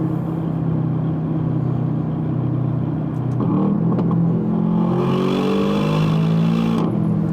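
Aston Martin DBX 707 SUV engine pulling hard through corners, a steady loud rumble that swells into rising revs midway, close up from inside the cabin with no talk.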